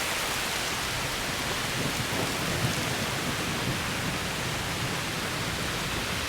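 Heavy rain pours steadily around a rider caught in a storm at Lake of the Isles, a dense continuous hiss with no clear thunder clap standing out and no one speaking.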